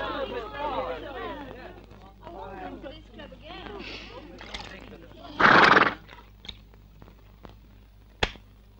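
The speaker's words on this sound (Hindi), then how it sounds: "उसका घोड़ा भी अंदर आ गया" A horse whinnies in a rising and falling neigh, followed by scattered hoof clops and sharp knocks indoors, with people talking over the sounds.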